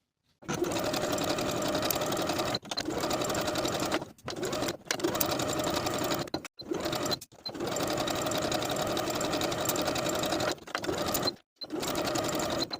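A sewing machine runs steady edge stitching with a stretch stitch along the inner folded edge of a knit placket. The close, continuous whirring comes in several long bursts separated by brief pauses.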